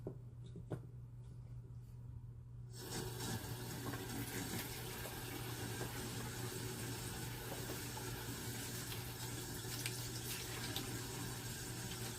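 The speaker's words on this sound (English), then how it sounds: "I need to go wash my hands." A bathroom sink tap in a rental apartment, switched on after a quiet few seconds, then running in a steady, close, continuous stream while someone washes their hands.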